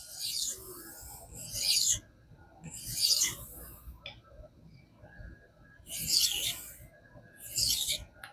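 A knife sharpened on King whetstones, with four distinct bursts of rasping strokes against the stone, separated by quieter pauses, up close.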